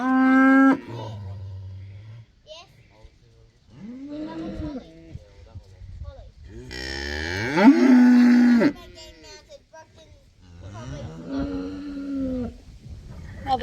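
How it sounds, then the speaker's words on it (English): Cattle mooing on a farm, a mother cow with her calves, giving several loud, drawn-out moos at varying pitches, some overlapping, with quieter lower calls between them and a person speaking softly nearby. "That does sound like your moo is all better."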